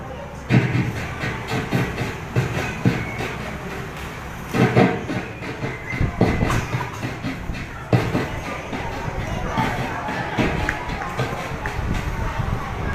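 A voice imitates a train rumbling over a bridge, with rhythmic clattering bursts and hollow pulses repeating steadily for several seconds, fairly loud and close.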